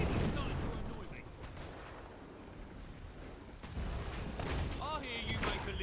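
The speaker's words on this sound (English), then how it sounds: "Can you take that mortar out? It's really starting to annoy me." Mortar artillery fire in the video game Fable 3 booms in a dense, continuous barrage of blasts and crackling gunfire, loud throughout, with a voice speaking over the bursts near the end.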